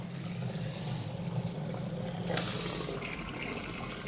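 Water trickles and flows through a kitchen drain gully, a soft continuous running sound close by, fairly faint with a small splash partway through.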